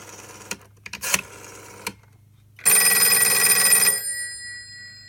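Western Electric 302 telephone bell rings in one loud, sustained burst of about a second and a half after a few scattered clicks and knocks, with a faint hum underneath and the bell's ring decaying at the end.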